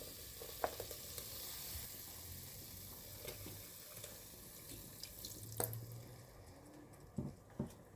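Masala paste sautés in a pan for a vegetable kurma made without coconut, a faint steady sizzle with a few soft clicks and stirring taps, quiet and close, no voices.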